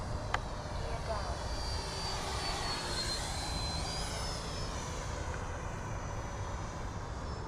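A Hobby King Flycat V2 RC EDF plane flies past overhead with a steady distant whine that rises and falls as it passes, over constant outdoor background noise.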